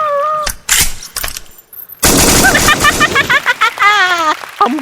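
A comedy sketch with a burst of gunshot sound effects, loud sharp cracks in quick succession followed by excited high-pitched voices and wailing.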